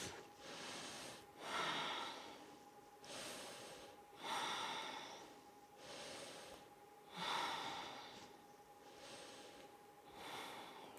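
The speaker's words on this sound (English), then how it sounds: "ujjayi, warm breath" Slow, deep ujjayi breaths in a yoga session, a steady cycle of long, audible, hissing inhales and exhales close to the ear, about six breaths with no speech.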